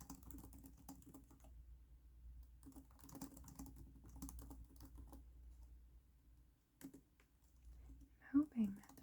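Soft computer keyboard typing in a quiet indoor setting, steady key clatter running for most of the stretch with a brief pause, faint low hum beneath and a soft voice near the end.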